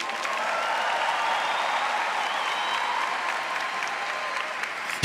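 An audience applauds steadily after a show by a friar singer, a dense, even patter of many hands clapping with no voices on top.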